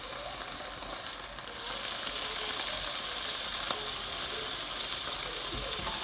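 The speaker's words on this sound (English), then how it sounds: "Do you hear that sizzle? That means it's cooking." Food frying in a pan, a loud continuous hiss and crackle of sizzling that holds steady throughout, close up and with no talking.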